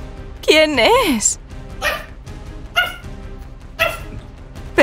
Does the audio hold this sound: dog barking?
yes